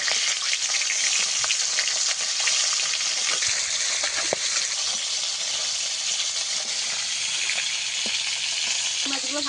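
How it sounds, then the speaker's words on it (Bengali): Steady, loud sizzling of fresh pond fish frying in hot oil, a continuous crackling hiss with occasional faint clinks. "মাছ দিয়ে দেব আমি ভালো করে লাল লাল করে ভেজে নেবো"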